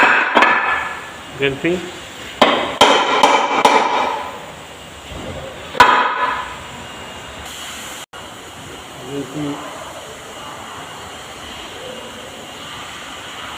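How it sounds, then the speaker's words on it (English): Hammer blows loosen the housing of an automatic gearbox being dismantled: a cluster of sharp metallic strikes in uneven rhythm, close and loud, then quieter workshop sounds while someone speaks briefly. "I use hammer like this."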